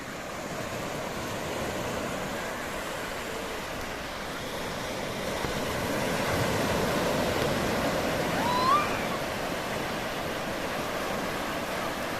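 Sea waves wash against a village shore as a continuous broad hiss of surf with some wind, swelling louder midway and easing off, with no voices.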